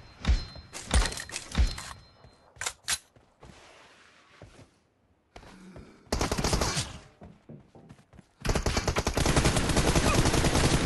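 M24 rifle gunshots in PUBG Mobile, a few sharp cracks early on, then dense rapid gunfire bursts that grow louder and continuous toward the end.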